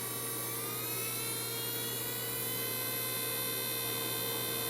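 An electric nail drill at maximum speed: a steady high-pitched electric whine runs continuously under a low mains-like hum, with no speech and no change in speed.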